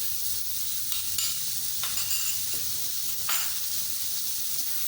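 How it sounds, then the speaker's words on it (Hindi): Chopped onion and garlic with whole cumin frying in a pan for a chicken buns recipe, giving a steady, even sizzle with faint stirring scrapes, moderately close and without speech. "तो 2 मिनट तक मैंने लहसुन और प्याज को फ्राई किया।"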